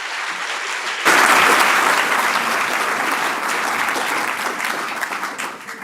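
Audience applause at a poetry gala following a reading, rising abruptly from near silence into sustained, dense clapping that holds steady for several seconds and then begins to thin toward the end.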